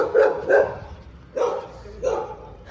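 A guard dog kept at a home in Brazil barks at a passer-by on a walk, a quick double woof followed by two more single barks, fairly close and loud against quiet street ambience.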